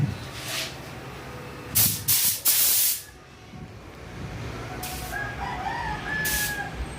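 Primer sprayed onto Honda PCX160 scooter fairings during a repaint, heard as several short hissing bursts of spray, one longer blast in the middle, over steady background noise.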